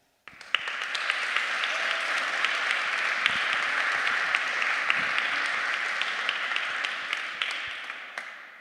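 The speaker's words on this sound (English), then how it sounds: "I also want to ask everyone to make a big applause" An audience at a conference on organized crime and corruption claps together in sustained applause, a steady dense patter of many hands that starts abruptly and fades slightly at the end.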